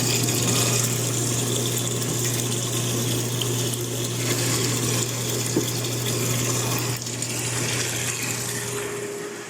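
Water runs steadily through the pipes of a laboratory flow-measurement rig, a continuous broadband rush with a low pump-like hum beneath, close and unbroken throughout.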